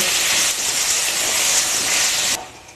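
Potatoes, cut and washed, fry in oil until reddish, giving a steady loud broadband hiss that holds without a break and then drops away abruptly near the end.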